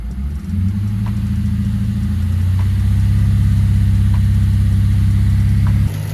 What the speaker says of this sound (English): You just let the RPM run to 2000 RPM for like a couple of minutes or so